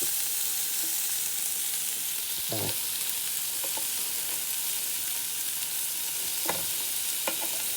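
Chicken wings sizzle steadily on a grill, a continuous close frying hiss with a few brief scraping clicks and taps of a utensil scattered through, no talking.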